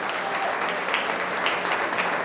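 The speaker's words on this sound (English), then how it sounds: "let's give a round of applause for that." Steady applause from an indoor preview-night audience in Indianapolis fills the space with dense, even clapping from many hands, holding at a constant level.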